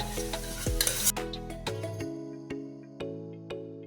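Lentils stirred into a beans thoran in a pan, bright metallic clinks and scraping early on, then a series of evenly spaced spoon taps against the pan over a soft sizzle, with no talking.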